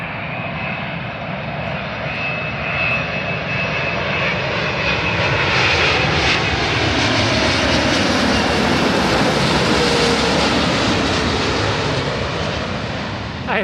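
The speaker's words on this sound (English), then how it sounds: "Now this is a big old plane." Big Virgin airliner's jet engines roar steadily on the airfield, a loud broad sustained rumble and whine that swells slightly midway, with a faint high tone running through it.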